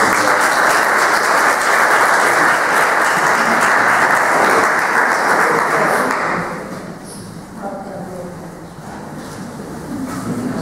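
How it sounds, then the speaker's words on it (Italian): An audience at a concert in the Oratorio di San Giovanni Battista claps loudly and steadily for about six seconds, then the applause fades to scattered claps and a quieter room. "Un applauso, vogliamo."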